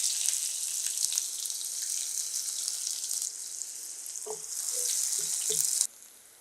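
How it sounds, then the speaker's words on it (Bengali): Two chopped onions hit two tablespoons of hot oil in a wok for a fish curry, giving a steady, close, loud sizzle with a few light utensil clinks before it cuts off near the end. "কড়াইতে কিছুটা তেল দিয়েছি, 2 টেবিল চামচ হবে, আর 2টা পেঁয়াজ দিয়ে দিচ্ছি"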